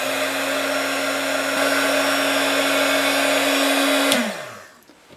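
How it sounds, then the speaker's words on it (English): A heat gun blows a steady, loud whooshing hum with a constant motor whine while shrinking heat-shrink tubing over frayed wire on a 1924 Radiola UZ 1325 horn speaker, then clicks off and winds down. "Just going to go ahead and put some heat shrink on it."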